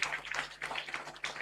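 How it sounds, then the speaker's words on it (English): An audience claps for recipients of a Recovery Champions Award at an International Day Against Drug Abuse event in Shillong, a brief, fairly faint patter of many hands without talk. "A round of applause to the Recovery Champions Award."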